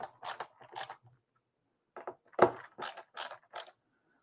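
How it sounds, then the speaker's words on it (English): A screwdriver loosening screws on a Golden Tee Deluxe arcade cabinet build, heard as close, scraping, ratcheting turns in two short bursts separated by a pause, with no speech. "So what I do here is loosen the screws"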